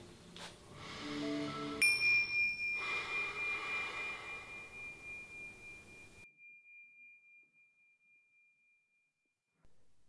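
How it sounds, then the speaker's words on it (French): A meditation bell struck once, a clear ringing tone that lingers and slowly fades to silence over several seconds, preceded by a few soft sounds. "La méditation commence par un son de cloche"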